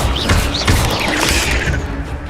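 An Incendio fire spell in Hogwarts Legacy, heard as a loud, roaring burst of flame with swishing, rising tones and thudding impacts, held for around two seconds at close range.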